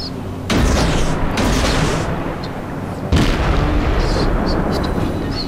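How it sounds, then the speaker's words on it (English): A destroyer fires torpedoes in the naval combat game World of Warships, heard as two heavy, loud launch bursts with a rushing boom, the second about two and a half seconds after the first. "six torpedoes away."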